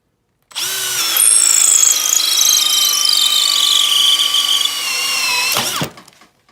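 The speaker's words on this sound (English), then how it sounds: "And now the brushless Makita XPH07." A brushless Makita XPH07 hammer drill runs loud and close for about five seconds with a steady high motor whine as it drills through wood, its pitch dipping slightly under load before it stops abruptly.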